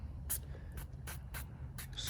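Goo Gone sprayed onto a sticker on a Buell Lightning XB12S motorcycle, heard as five short, bright aerosol bursts spaced at an irregular rhythm over a low background hum.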